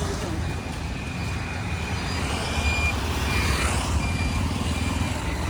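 Yellow excavators on a busy Kathmandu street near Balaju let out a thin repeating reversing beep, heard faintly through a dense rumble of passing cars, trucks and motorcycles.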